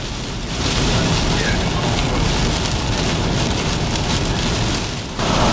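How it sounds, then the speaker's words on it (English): Heavy rain from a Tropical Storm Bonnie rain band on Interstate 75, a loud, steady, dense roar of rain pounding a surface without a break, briefly dipping near the end before returning at full strength. "as you can see, it's raining pretty good"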